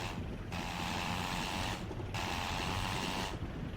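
A Fokker Eindecker engine in the Rise of Flight WWI flight game, taxiing on the ground while a blip switch cuts ignition: a loud, steady roar with brief periodic dips in its upper hiss, and no talking.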